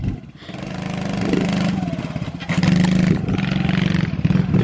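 A small pit bike motorcycle revs hard nearby, its buzzy single-cylinder engine rising and falling in pitch through quick throttle blips and a gear change, loud and rattly throughout.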